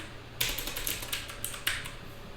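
Keys on a computer keyboard clack in a short, uneven burst of a few taps, close and moderately quiet, with no talking.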